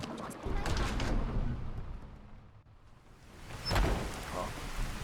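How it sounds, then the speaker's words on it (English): Rain falls steadily in the video game Skyrim, a broad hissing wash that dips briefly midway and then swells louder again, with a low rumble underneath like distant thunder. "It's really raining, isn't it?"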